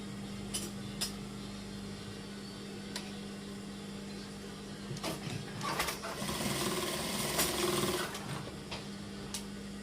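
A sewing machine stitches the body of a Kasumedangan garment, running as a steady mechanical hum with a few brief clicks and a louder burst of stitching toward the end, fairly quiet and close.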